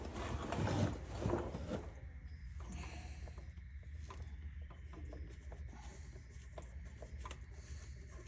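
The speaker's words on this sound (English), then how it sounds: "So you get your torque wrench, put it at 80 inch-pounds" A torque wrench set to 80 inch-pounds tightens transmission pan bolts on a 2019 Ford diesel, giving quiet, close ratcheting clicks in short bursts after a couple of louder handling knocks.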